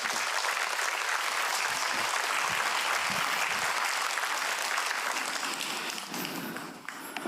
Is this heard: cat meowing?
no